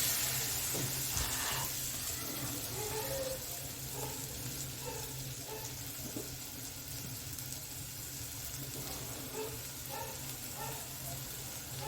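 Two finely chopped medium onions sauté in a pan for pav bhaji, giving a steady low sizzle and hiss with faint stirring scrapes throughout.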